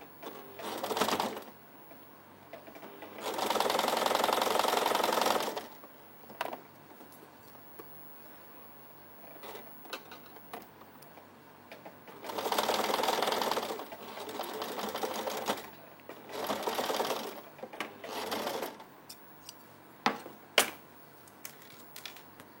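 Sewing machine stitching a baby frock, the motor running in several sustained whirring bursts of a few seconds each, separated by quieter pauses with small handling clicks, close and clear.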